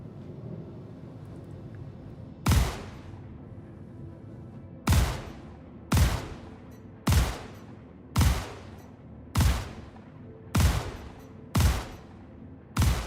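Ship weapons firing in the Star Citizen video game, about nine sharp, heavy booming shots with short decaying tails, spaced roughly a second apart, loud and with no talk over them.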